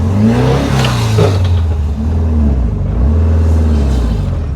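A 1968 VW Type 3 Squareback with an 1835cc engine accelerating in fourth gear, a loud, rumbling drone that climbs in pitch, drops briefly at a shift, then climbs again.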